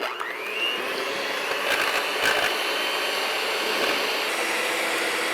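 An electric mixer whirs steadily as it whips two cups of heavy whipping cream for cream puffs, a continuous high motor whine with no talking.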